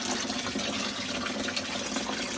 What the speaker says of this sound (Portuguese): Enchendo na caixa d'água.